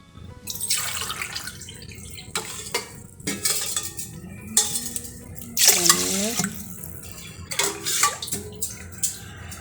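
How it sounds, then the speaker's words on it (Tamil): Water poured into a pot of rice and milk, with several splashing bursts and the clink of a utensil stirring against the pot, close by. "இப்போது இதுக்கு மூணு டம்ளர் தண்ணி"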